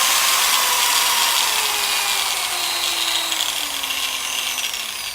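A variable speed grinder runs at high RPM with a steady, close, high-pitched whine that eases slightly downward over a few seconds, with no talk.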